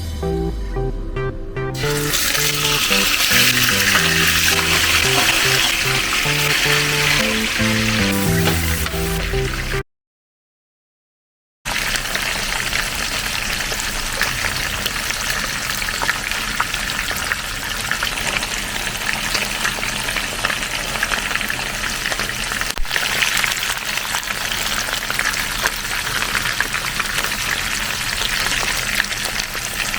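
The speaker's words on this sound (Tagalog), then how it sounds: "Pwede na tayo magprito ng isda." Steady loud sizzling of fish frying in a hot pan, crackling continuously with a brief silent gap partway through.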